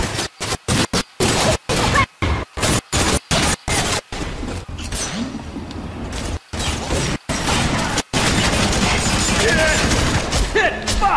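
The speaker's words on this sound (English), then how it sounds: "Let's throw some of this grenade over there." Rapid gunfire bursts in the video game F.3.A.R come in quick, loud, regular volleys, then give way to a grenade blast and chaotic crashing combat noise, with a voice talking over parts of it.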